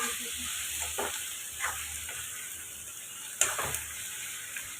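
Duck meat frying in a pan for an Assamese village dish, a steady soft sizzle under intermittent scraping stirs and light clinks of the utensil against the pan, close and moderately quiet, with no talk.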